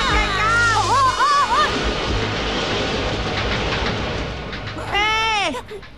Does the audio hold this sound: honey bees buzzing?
no